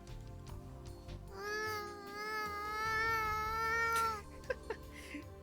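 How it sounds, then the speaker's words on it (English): A cat meows in a long, wavering, drawn-out cry that rises and holds for a couple of seconds over a quiet background, followed by a few faint clicks. "Sounds like a cat"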